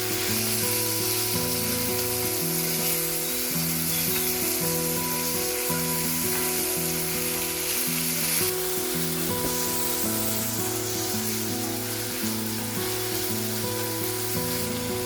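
Tomatoes sizzle steadily in a pan as they are sautéed for an onion chutney, a constant close frying hiss beneath soft background music, with no talking.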